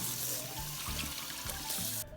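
Water drains from a container of soaking clams in a continuous splashing, trickling pour that stays close and moderately quiet, then stops abruptly at the end.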